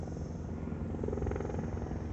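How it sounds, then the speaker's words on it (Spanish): A helicopter flies over a large agricultural fire in Gamonal, Toledo, giving a steady droning engine and rotor rumble with slight pulsing, moderately distant, with no voices. "No sé si se ve el helicóptero bien."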